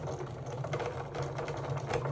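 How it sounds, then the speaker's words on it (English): A Cricut sticker cutting machine cuts a sheet with a continuous mechanical whirr, buzzing and clattering of motor and blade movements, close and steady with no voices. "This is the Cricut sheet. It registers the black lines and then cuts from there."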